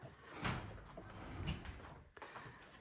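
A wardrobe door used as the door into a bathroom bumps and slides open in a chateau, with a few knocks and thuds against faint room noise.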